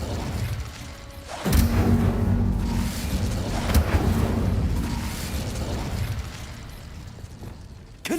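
A fire spell cast in the video game Hogwarts Legacy bursts out with a sudden loud whoosh, then roars in a sustained, fiery rush for several seconds before easing off.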